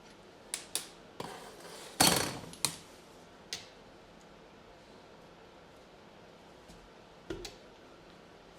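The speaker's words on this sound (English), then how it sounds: "Obviously using a plastic mallet just to be sure not to do any damage there." A plastic mallet raps a BMW motorcycle gearbox casing during a strip-down, giving a handful of sharp, irregular knocks close by with one heavier blow, and quiet gaps between them. Nobody speaks.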